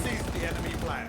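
Suppressive gunfire in a first-person shooter game, a dense continuous burst of automatic fire filling the whole brief moment, loud and close, with a voice shouting over it.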